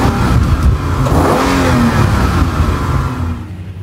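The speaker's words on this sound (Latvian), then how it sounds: "Sēžamies vieglajā auto un rulējam telefonam pāri ar to" A passenger car engine revs and accelerates close by as the car rolls over a Samsung Xplorer phone in a durability test, a steady loud rumble swelling mid-pass, then fading.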